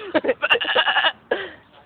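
A person's voice mimics a sheep bleating: a quick string of wavering, nasal bleats, a short pause, then one more drawn-out bleat, close and clear.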